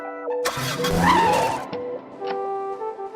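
A car pulls away with a sharp tire squeal that swells loud and close over the engine, then drops back to a steadier hum.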